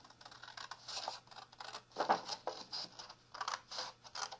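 Scissors cutting a piece of card straight down the middle, a series of short crisp snips and scratchy crunches in a quiet room.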